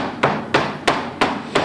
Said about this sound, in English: just beat the carpet